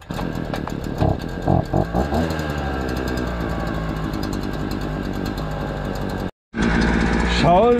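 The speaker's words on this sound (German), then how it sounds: "Und dann werden wir den neuen Rasenmäher testen." A new lawn mower engine starts up in a garden, a loud mechanical run with some uneven revving, a brief cutout near the end, then a rising rev as it picks up again.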